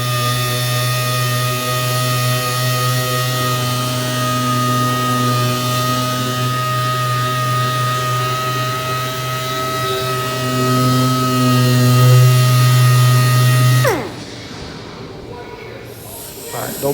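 Compressed air blows dust off Nissan Z32 300ZX car parts in a loud, continuous tonal hiss that cuts off abruptly near the end, leaving a quieter background.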